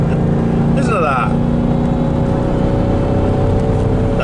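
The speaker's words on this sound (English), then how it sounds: "You can hear how strong the engine is." A small Jaguar car's engine heard from inside, a strong, steady low rumble that holds evenly throughout, with voices talking over it.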